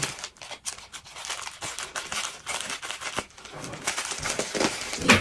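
Scissors snip and cut open a cargo package in a run of quick, close, irregular cuts mixed with rustling and crinkling of packaging material.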